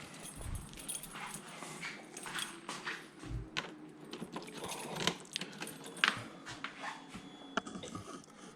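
Keys jangle in short metallic bursts at close range beside a Piaggio X10 350cc motorcycle, with soft clinks scattered across the stretch and some low rustling and background noise, no talking.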